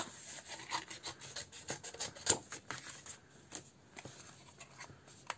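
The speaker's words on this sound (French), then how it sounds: "je vais déjà découper un peu grossièrement" Rough cutting of material by hand, a series of quiet rasping, scraping strokes in an irregular rhythm, faint and close with no talk.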